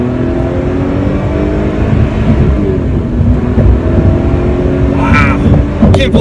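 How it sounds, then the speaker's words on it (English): A Lotus Evora's Toyota-sourced V6 accelerates hard from inside the car, a loud, steady engine drone that climbs in pitch throughout, with a couple of brief sharper sounds near the end. "I can't believe this is a V6, and I can't believe it comes out of a Toyota."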